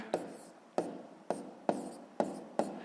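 Pen strokes on paper as fractions are written out by hand, six short taps and scratches at a fairly even pace. Close by and quiet, with no voice.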